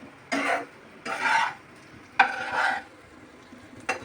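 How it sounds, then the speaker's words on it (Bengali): Noodles scraped and stirred in a pan in four distinct strokes with pauses between, each a close, rough scraping rush over a faint background hiss. "এখন আমি নুডলস রান্না করতেছি"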